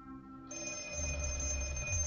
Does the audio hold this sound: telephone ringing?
yes